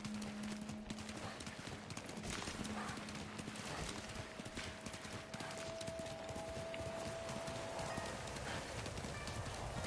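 A wounded horse in the video game Ghost of Tsushima gallops with steady clip-clopping hooves and lets out a whinny, all fairly close and continuous over a background of game ambience.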